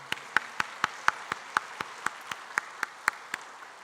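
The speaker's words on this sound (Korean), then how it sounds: "하나님 앞에 감사의 박수를 올려드리길 원합니다" Slow, steady rhythmic clapping from a church congregation during a Sunday thanksgiving service, about a dozen evenly spaced claps, fairly soft and with no talking.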